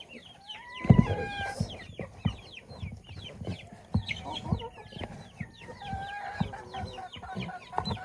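Pet chickens and chicks clucking and peeping close by, with a busy stream of overlapping chirps and clucks and a brief louder squawk near the start.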